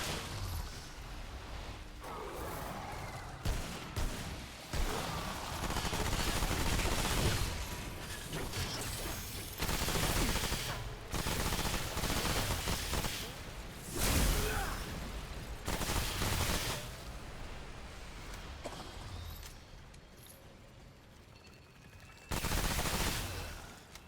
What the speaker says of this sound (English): Bulletstorm Coach Gun is so immensely satisfying.